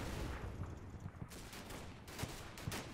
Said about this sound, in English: Mortars are landing.